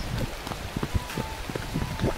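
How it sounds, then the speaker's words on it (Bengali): Heavy rain pours down outdoors, a dense close patter of drops hitting surfaces, steady and moderately loud with scattered louder splashes and no talking. "দেখতে পাচ্ছ মানে প্রচন্ড বৃষ্টি শুরু হয়ে গেছে"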